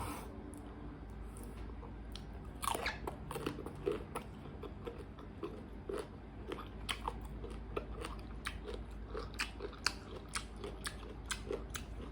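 Someone bites and chews crunchy sour green mango, eaten with a fermented fish dipping sauce. Close, crisp crunches repeat in a steady, irregular stream over a quiet background.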